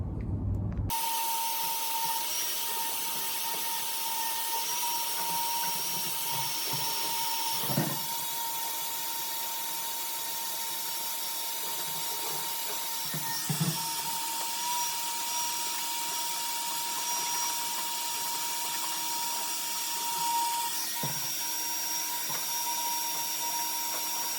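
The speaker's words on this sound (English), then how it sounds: "I'm gonna vacuum up the big chunks of stuff" A vacuum cleaner runs with a steady, high-pitched whine, its tone occasionally shifting as it bumps and sucks up debris while cleaning the interior of a 1971 Ford F100.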